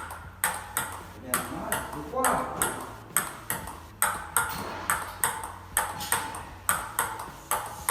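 A ping-pong ball clicks sharply on a miniature table tennis table in a quick, steady rally of about two hits per second, bright and close with a low background hum.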